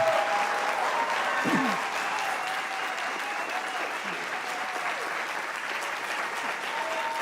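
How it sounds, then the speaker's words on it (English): A debate-hall audience at the vice presidential debate applauds, steady moderate clapping heard from a distance for about seven seconds with a voice briefly over it. "Now they're applauding."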